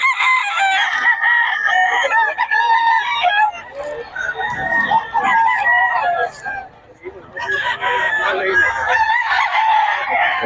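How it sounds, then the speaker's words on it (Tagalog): Several roosters crow loudly and repeatedly nearby, overlapping one another, with a short quieter stretch between bursts and faint talk underneath. "Mga manok ni Boss Batang."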